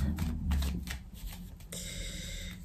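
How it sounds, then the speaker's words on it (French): Tarot cards laid out and covered on a table, a quick run of soft papery slaps and slides up close, then a quieter faint rustle. "Je vais recouvrir certaines cartes."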